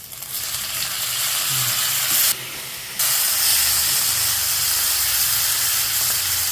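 Tomatoes hit browned, curled onions frying in hot oil for a mutton and radish gravy, giving a loud, steady sizzle and hiss that drops out briefly midway before resuming, with no talking.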